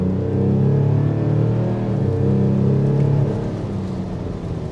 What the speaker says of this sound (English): Let's get full throttle here.